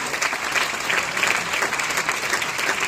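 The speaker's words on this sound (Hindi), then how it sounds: "मैं चाहूंगा एक बार जोरदार तालियों के साथ उनको यहां पर बुलाया जाए" An audience at an anniversary event gives loud, vigorous applause to call a guest onto the stage, a dense patter of clapping that stays strong for about three seconds.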